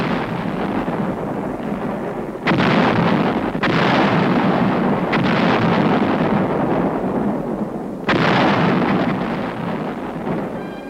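155 mm artillery guns fire in four heavy, booming blasts, each followed by a long rolling decay, over a constant loud rumble during a wartime withdrawal near Seoul.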